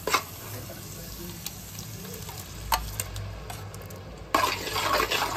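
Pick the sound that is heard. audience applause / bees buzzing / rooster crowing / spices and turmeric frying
spices and turmeric frying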